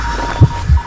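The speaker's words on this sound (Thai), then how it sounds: "หัวใจเต้นแรง" A heartbeat effect in Identity V: two deep, loud thumps in quick succession over a low steady hum.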